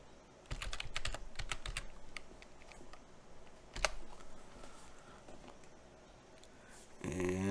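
Someone types a Linux terminal command on a computer keyboard in quick bursts of crisp clicks with short pauses between them, followed by a brief burst of different noise at the end.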